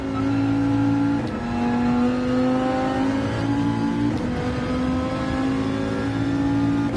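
GR3 race car engine in the racing game Gran Turismo 7, revving steadily with a sustained buzzy drone and slight pitch shifts over about seven seconds, loud and continuous with no talk.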